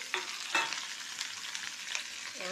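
Lemons, green chillies and crushed fenugreek fry in a pan for lemon pickle while a spoon stirs them. The close, steady sizzle is broken by scraping strokes, and no voice is heard.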